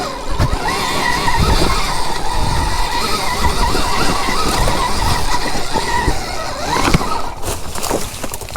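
Stark EX electric dirt bike climbing a steep mountain slope, a loud continuous rough roar of tires churning dirt and gravel with a rising whine, ending with sharp crunches and scrapes.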